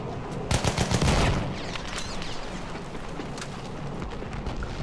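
Gunfire in a video game, where a player manages to shoot while a ship is being blown up: a loud rapid burst of shots for about a second, then a steady rumbling battle din with no talk.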